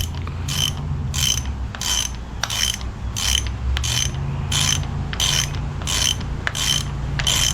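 Ratchet wrench turning a bolt during an engine camshaft install, a steady series of crisp clicking bursts repeating roughly every half second, close and loud over a low background hum.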